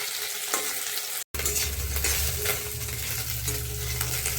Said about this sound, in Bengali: এক সাইড হয়েছে ভাজা, আর সাইড বাকি আছে।